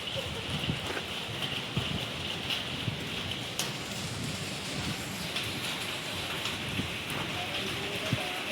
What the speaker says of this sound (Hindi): दोस्तों पानी गिरने लग गया